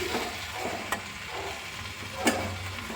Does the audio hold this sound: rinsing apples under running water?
no